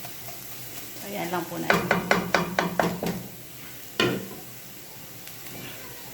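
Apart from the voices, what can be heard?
sautéing aromatics in a pan for carbonara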